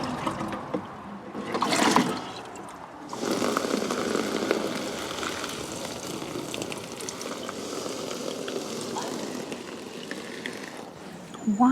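Water poured over cardboard laid on a newly built garden raised bed, a soft continuous splashing trickle with a brief louder surge near the start, then steady, fairly quiet pouring to the end.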